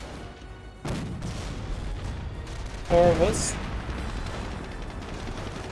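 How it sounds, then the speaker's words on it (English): A distant explosion in the World War II strategy game Company of Heroes, a short boomy blast rising from the battle ambience, with someone talking over it. "What was that explosion?"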